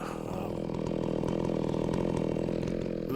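Ported chainsaw running steadily at high revs while milling logs into lumber with an Alaskan mill, a loud continuous buzzing whine with no pauses.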